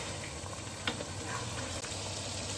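Chicken karahi sizzles steadily in hot oil and is stirred in the pan, with a constant frying hiss and a few faint scraping knocks from the utensil.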